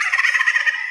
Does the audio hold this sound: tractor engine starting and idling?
no